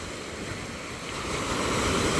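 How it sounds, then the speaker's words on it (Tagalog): Large ocean waves surge and roll at a fishing port, a broad continuous wash of surf with wind noise that builds steadily louder toward the end. "Taas at malaki ang gulong ng alon."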